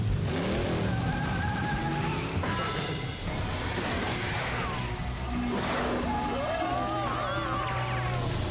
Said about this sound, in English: Can't hear you over the engine noise.